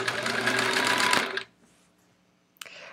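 A sewing machine stitches a quilt in a steady, loud run that stops abruptly about halfway, leaving near silence before a brief clack and faint resumed hum.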